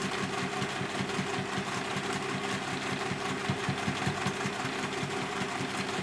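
A sewing machine stitches a straight line down the middle of folded fabric rectangles on a base fabric, a steady, fast, continuous mechanical whirr with rapid rhythmic needle pulses.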